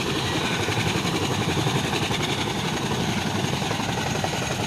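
A helicopter flying, a loud, continuous rotor and engine roar with a steady throb that fills the whole stretch without any voices.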